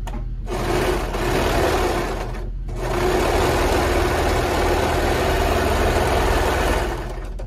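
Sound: sewing machine sewing shoulder seams of a tee

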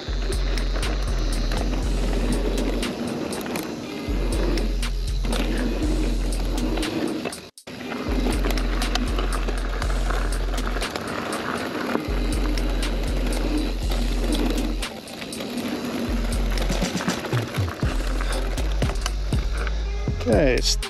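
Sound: DJI Mini 3 Pro drone flying on active track

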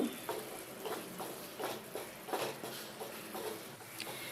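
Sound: stirring and frying spice paste gravy in a pan

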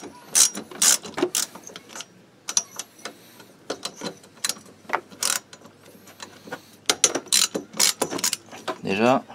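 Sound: ratchet loosening bolts on a Kymco Agility scooter

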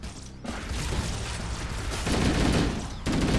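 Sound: gunfire in Halo video game

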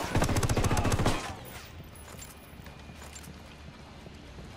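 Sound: gunfire in the video game Ghost Recon

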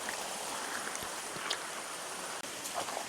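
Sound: waterfall water flowing with force

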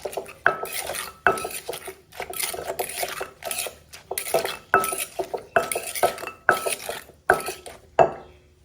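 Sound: pounding in mortar with pestle

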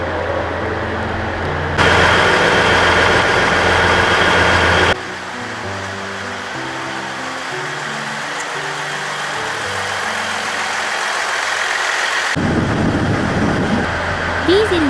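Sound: diesel railcar engine idling

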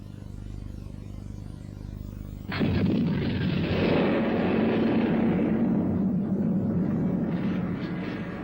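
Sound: explosions blasting rock

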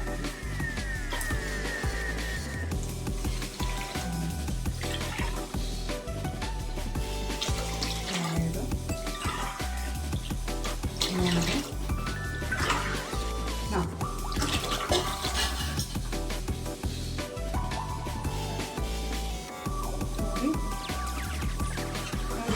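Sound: water being poured into a pot for rice

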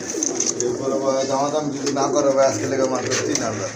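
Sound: pigeons cooing

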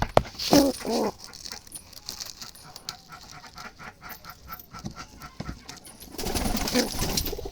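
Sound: Jalali wild pigeons cooing and flapping

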